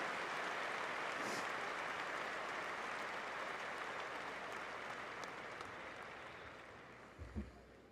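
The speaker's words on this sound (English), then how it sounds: "How about a great round of applause for these guys?" A dense, sustained roar of audience applause at an international barbershop quartet finals, steady and loud throughout before tapering slightly, with a brief low thump near the end.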